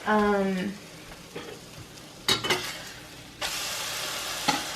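Food cooking in a pan in a home kitchen, with a loud voice-like tone at the start, then scattered clinks and scrapes of utensils and a steady sizzle taking over toward the end.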